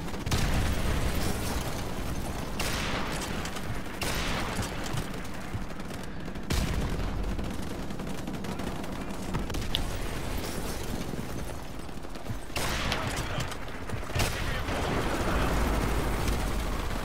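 Gunfire and blasts fill a Call of Duty Modern Warfare Remastered campaign mission, a dense, steady barrage of loud shots and bursts running without a break from start to finish.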